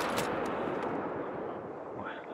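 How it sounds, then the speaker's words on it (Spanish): A single rifle shot aimed at a moose in the hunting game The Hunter: Call of the Wild bursts out at the start and rolls into a long, fading rumble, with a voice faintly underneath. "Disparo al corazón."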